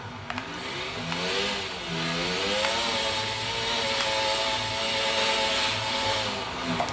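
A racing motorcycle engine in a video game revs continuously, high-pitched with rising and falling pitch sweeps, loud and steady over a broad whine, with no talking.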